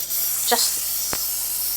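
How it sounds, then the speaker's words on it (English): A clear face spray is misted onto a hand in two quick, close hissing bursts, the first longer than the second, against quiet room tone. "I'll spray it on my hand"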